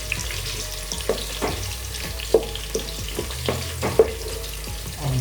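Cocoa and onion fry together in a pot for Ghanaian garden egg stew, a low sizzle broken by sharp clacks and scrapes of a spoon stirring nearby.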